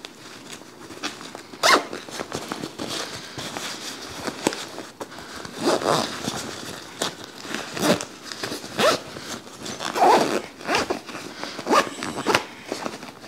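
A zipper runs around the edge of a diaper bag that folds out into an infant travel bed. Rustling fabric zips come in several short bursts at close range, with no talk.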